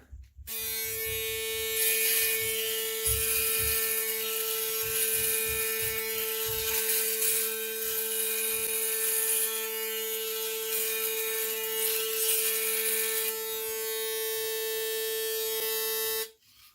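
A Panasonic Arc 4 electric shaver hums with a loud, steady high-pitched buzz and whine for about sixteen seconds, with faint rasping strokes against stubble early on before it stops abruptly.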